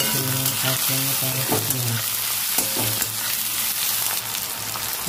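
Onion, green chili and tomato fry in hot oil with a constant loud sizzle, while rhythmic stirring scrapes through the pan close by.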